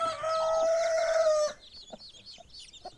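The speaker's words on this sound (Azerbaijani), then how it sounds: "Öz altına yığmağa çalışır cücələri" A broody hen lets out a loud drawn-out call, then clucks softly as newly hatched incubator chicks peep around her in a quiet, close setting.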